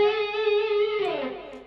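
A distorted electric guitar plays a short lick from Airplay's "It Will Be Alright": one long sustained note, then a quick shift into fresh notes, loud and unaccompanied.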